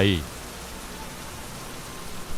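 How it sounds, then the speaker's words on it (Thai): Heavy rain falls steadily as a dense, even hiss throughout, with a brief louder burst of sound at the very start before settling into a constant downpour. "ฝนที่ตกหนักขนาดนี้"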